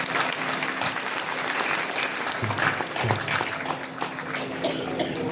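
An audience applauds continuously, a dense patter of many hands clapping at steady volume throughout.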